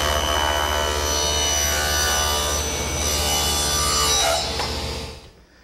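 A table saw rips a board held against the rip fence, its freshly jointed edge guiding the cut. The blade whines loudly and steadily through the wood, close by, then winds down at the end.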